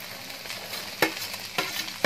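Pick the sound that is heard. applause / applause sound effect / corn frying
corn frying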